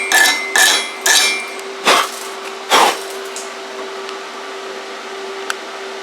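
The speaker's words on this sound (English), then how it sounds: "It would help if I had my chipping hammer somewhere." A chipping hammer knocks slag off a fresh TIG weld bead made with an Alpha TIG 201XD welder: five sharp metallic knocks at an irregular pace over the first three seconds, close and loud, then a quiet hum.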